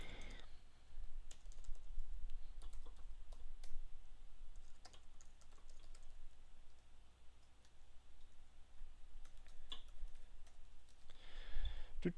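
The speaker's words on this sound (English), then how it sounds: "If I could only type quicker." Typing on a computer keyboard while entering login details, a steady run of faint key clicks and taps throughout, with brief voice sounds near the end.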